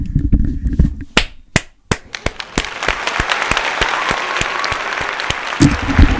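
A crowd breaks into applause, starting with a few scattered sharp claps that quickly build into dense, continuous clapping.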